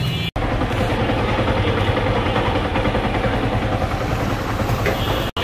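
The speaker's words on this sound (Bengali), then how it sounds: "যে বাইকটা চলে আসছে, R15M সিলভার কালার ইন্ডিয়ান" A silver Indian-market Yamaha R15M motorcycle idles steadily and close by at night, its engine a dense, even rumble that holds for the whole stretch with no talk over it.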